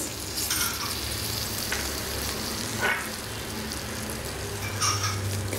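Cashews, broken wheat and sesame seeds fry in a pan for chicken haleem, giving a steady close sizzle with scraping stirs and a few louder crackles, no voices.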